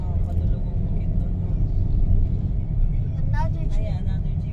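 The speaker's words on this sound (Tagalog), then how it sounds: "another jeep." A jeep rumbles past on a busy road on the way to Sirao Garden in Cebu, a steady low engine drone heard from inside a moving vehicle with faint voices and road noise around it.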